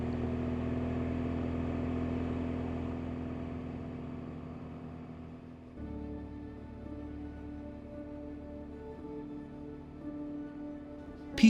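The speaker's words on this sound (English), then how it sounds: "that steady, honest tone of the engine" A motorcycle engine hums at a steady tone while riding, a constant low drone that shifts slightly midway and holds fairly even, moderately quiet with no talking over it.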